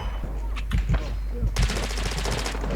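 Rapid automatic gunfire from an M4 rifle in Call of Duty Warzone 2.0, a dense burst of fast repeating shots under constant game background noise and a voice talking over it.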